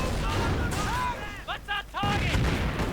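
Mortar barrage shells whistling in and bursting in a World War II strategy game with sappers firing Lee Enfield rifles, heavy rumbling impacts and rising whistles under a voice talking throughout.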